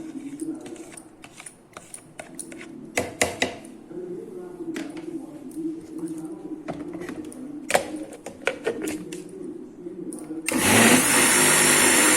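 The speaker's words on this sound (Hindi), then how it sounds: "इस आइसक्रीम को ना 2 बार 3 बार जो है फिर से चलाना होता है मिक्सी में ना" A mixer grinder blending mango ice cream whirs loudly in bursts with clattering, then roars continuously at full speed toward the end.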